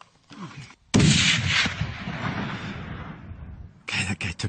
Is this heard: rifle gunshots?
yes